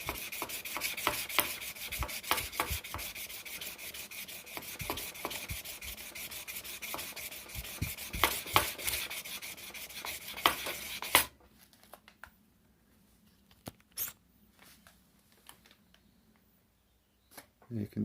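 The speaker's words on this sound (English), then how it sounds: "The block of wood is to keep the bit of sandpaper nice and straight." Sandpaper wrapped on a wooden block rubs back and forth across a rifle's adjustable recoil pad in steady, close scraping strokes for about eleven seconds, then stops, leaving near silence with a few faint knocks.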